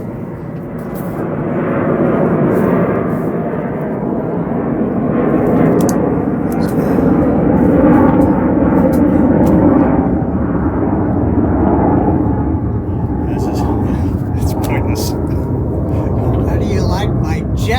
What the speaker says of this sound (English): it's like Air Force jets that are flying overhead, so they are not quiet